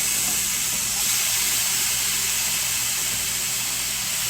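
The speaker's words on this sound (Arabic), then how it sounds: "احط الكرفس الاول وبعد كده احمره شويه معاها" Celery sizzling as it fries in a pan, a steady close hiss with a faint crackle running for a few seconds, no voices.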